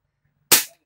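A single BB gun shot cracks out sharp and loud, a short snap that decays within a quarter second from near silence.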